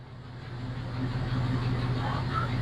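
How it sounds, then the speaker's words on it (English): Buick engine idling just after a cold start at around 700 RPM, a steady low rumbling drone that rises slightly and holds, heard close up with faint voices in the background. "Cold is idling around about 700 RPMs."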